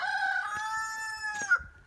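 A backyard rooster crows once, a clear, sustained harmonic call that rises slightly and breaks off near the end, close and loud with no talk around it.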